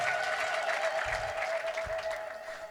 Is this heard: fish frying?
no